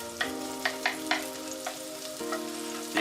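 Onions and peppers fry in a hot pan with a steady sizzle, punctuated by several sharp stirring clicks and scrapes, heard close and without speech.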